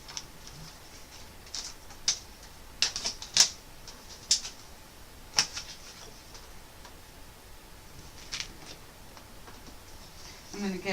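Paper being trimmed for a Carta Bella snow-themed faux toilet paper mini album, heard as sharp, scattered clicks and brief slicing snaps from a paper trimmer at close range over a quiet room hiss, with no talking.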